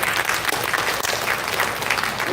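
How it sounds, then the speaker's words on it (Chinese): Audience applause at a summer conference gathering in San Diego, a dense, steady patter of many hands clapping together throughout, fairly close and even in loudness. "大家掌声鼓励者。"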